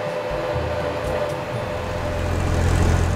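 Electric vehicle driving in Farming Simulator 22, a steady rolling hum with a faint whine that swells slightly toward the end, no voices.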